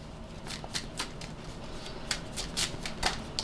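A deck of playing cards is shuffled up close in a quick series of crisp riffling bursts with short pauses between them.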